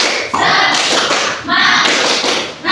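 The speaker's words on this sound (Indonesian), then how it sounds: "Sekarang tepuk semangat." A classroom of students performs a rhythmic spirit clap during a practice teaching lesson, producing bursts of loud, close group claps in a patterned beat, with pauses between rounds and some voices mixed in.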